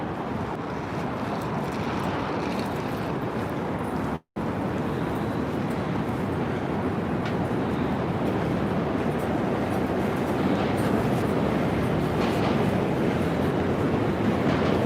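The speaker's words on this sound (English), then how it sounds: "all the noise that you hear is the trains going over the Manhattan Bridge, and of course the traffic" Continuous loud rumbling roar of trains crossing the Manhattan Bridge in New York City mixed with steady street traffic noise, unbroken except for one very brief dropout.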